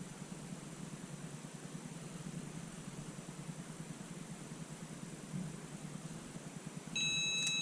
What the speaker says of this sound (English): that beep lets us know that our timer's up